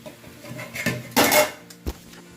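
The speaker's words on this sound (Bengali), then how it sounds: "ভাতের ঢাকাটা খুলে দিলাম" A metal lid comes off a pot of boiling rice with a short scraping clank, followed a moment later by a single dull knock, in a quiet kitchen with no talking.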